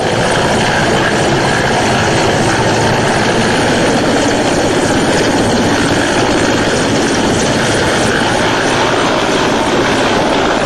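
An Air Force helicopter flies during a flood rescue, its rotor and engine roaring loud and steady without a break, a dense wash of noise.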